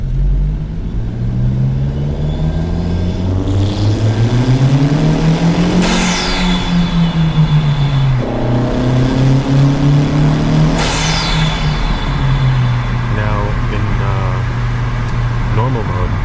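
Turbocharged 250 WHP Honda Civic Si engine revving hard while accelerating through the gears, loud in-car drone rising in pitch with sharp shifts in between, with someone talking over it.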